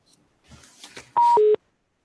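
Two touch-tone dialing beeps on a county commissioners' court conference call, a brief loud pair of tones that follows some faint background murmur and then gives way to silence.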